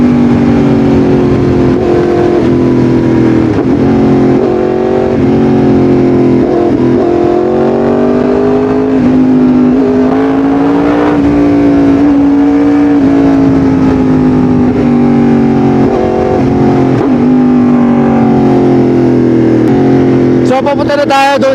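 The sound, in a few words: Yamaha R1M motorcycle engine revving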